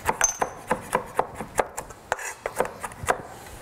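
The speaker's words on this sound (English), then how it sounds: "I have some dried shrimp that I'm also gonna add in. And again, I wanna sort of just rough chop this" A knife rough-chops dried shrimp on a board, with a steady series of about a dozen crisp, close taps in an even rhythm and no talking.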